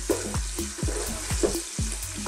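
Onions fry on high heat with garlic ginger paste for a cauliflower curry, a steady loud sizzle broken by regular scraping stir strokes roughly twice a second, close up and with no talking.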